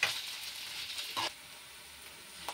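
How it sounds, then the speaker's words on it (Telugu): Ginger garlic paste sizzling in hot oil in a pan for a potato and green pea curry, giving a soft, thin crackle with brief bursts that fade, heard alone. "1 టేబుల్ స్పూన్ వరకు అల్లం వెల్లుల్లి పేస్ట్ కూడా మంచిగా ఫ్రై అవ్వనిచ్చి"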